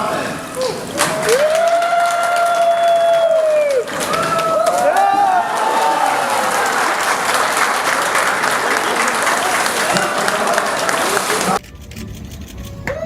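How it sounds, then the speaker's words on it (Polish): Crowd claps loudly and steadily at an official ribbon-cutting opening, sustained applause filling the scene with voices and music tones over it, ending abruptly near the close. "Wielkie brawa!"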